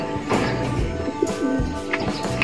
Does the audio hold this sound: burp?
no